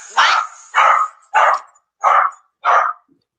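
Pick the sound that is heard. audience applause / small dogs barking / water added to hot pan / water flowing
small dogs barking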